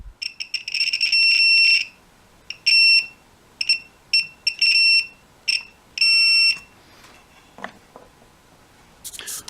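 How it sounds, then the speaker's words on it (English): A 12 volt contact switch being checked for continuity with a meter gives repeated high electronic beeps, short and long tones in an irregular pattern, clear and close with a quiet background. "there will be a beep."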